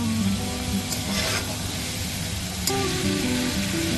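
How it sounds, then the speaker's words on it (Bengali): Potatoes and cauliflower fry in a masala in a pan with a moderate, continuous sizzle and occasional clinks or stirring under it. "একটুক্ষণ ফ্রাই হওয়ার জন্য ছেড়ে দিচ্ছি এখানে।"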